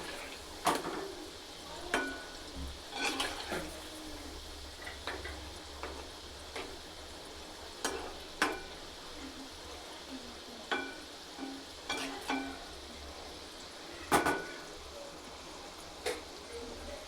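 Ripe mango fritters frying in oil, with a soft, low background hiss broken by scattered sharp clicks and taps of a utensil against the pan, faint and close, with no talk.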